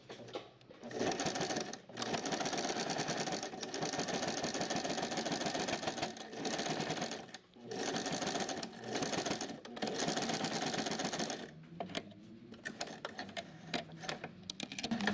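A sewing machine stitches the finishing seam on a basic toiletry bag, running in steady mechanical bursts of several seconds with short pauses between them, close and fairly loud.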